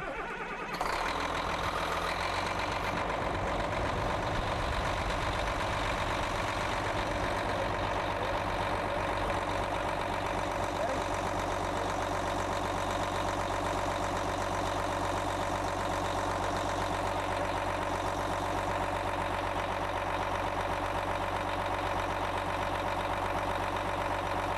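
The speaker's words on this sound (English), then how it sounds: "I'm going to have my assistant go ahead and start the machine up for us now." A machine's engine cranks over and settles into a loud, steady idle during live oil sampling, a continuous rumble running uninterrupted for the whole stretch.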